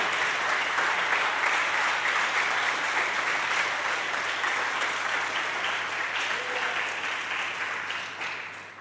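A church congregation bursts into sustained applause during a Spanish-language sermon, a dense, loud roar of clapping that holds steady for several seconds before tapering off at the end.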